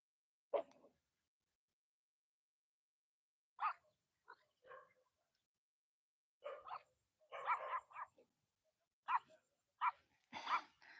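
A dog barks in scattered short bursts, faint and somewhat distant. Quiet gaps separate the barks, which come in quicker clusters toward the end.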